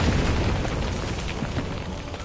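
Explosion from a pirate captain's shot in the Heroes of the Storm video game, a loud dense boom with a rumbling, crackling blast that carries through the whole short span without talk.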